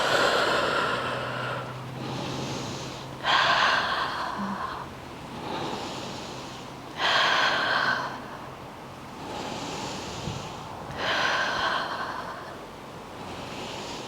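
Slow, deep breaths during a Pilates core strength workout, long breathy inhales and exhales alternating in an even rhythm, close and fairly loud with no talking.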